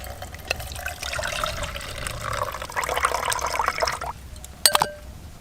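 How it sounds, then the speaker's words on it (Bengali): Salted potatoes are washed by hand in a bowl of water, squeezed and squished with sloshing, splashing liquid and a few sharp clinks near the end, close up without talk. "আবার ভালো করে চটকে চটকে ধুয়ে নেব"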